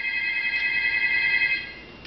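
A telephone rings with a steady, faint electronic trill that holds for a couple of seconds and then softens, with no voices over it.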